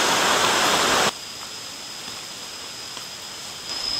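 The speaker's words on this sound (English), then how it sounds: "This is level 6 of the waterfall." Water flows at level 6 of Krathing Waterfall in Chanthaburi, Thailand: a loud broadband rush for the first second, then a softer, steady hiss of falling water.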